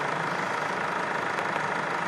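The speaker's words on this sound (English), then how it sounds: "Engine off, please." A car engine idles with a steady, even rumble during a battery and charging system test, constant and fairly close with no voices.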